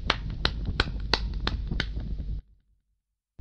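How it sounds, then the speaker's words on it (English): Slow, sharp claps from a single person, about six evenly spaced, close and crisp, then sudden silence. "Oh, let's clap for him."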